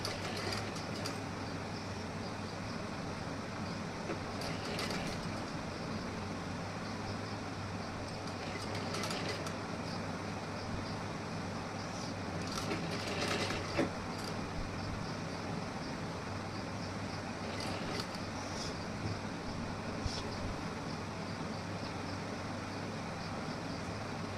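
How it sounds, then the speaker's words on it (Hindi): A sewing machine stitches a folded blouse front panel made only of fabric, with no paper backing, running a steady continuous motor hum with brief louder bursts, close by and with no talk. "इस तरीके से हमें फोल्ड करके यहाँ पे सिलाई लगानी है।"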